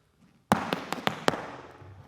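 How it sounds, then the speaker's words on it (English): Irish dance shoes beat out a bang, treble, hop, toe rhythm on the left foot: five sharp, close taps on a hard floor in an uneven quick pattern, each with a short ringing decay, and no talking. "So the rhythm we're going to do is bang, treble, hop, toe."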